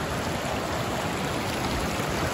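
Steady, dense rush of falling water at the first level of Phe Phe Waterfalls in Meghalaya, a close, unbroken roar filling the whole moment with no voices.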